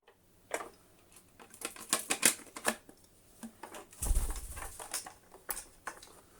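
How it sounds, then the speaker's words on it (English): Fiddly clicks and taps from refitting metal belt-guard clips with tiny screws on a Hotpoint Light'n'Easy vacuum cleaner, irregular sharp close ticks and rattles in short bursts, with a louder clattering scrape midway. "We shall put the clips for the belt guard back into place"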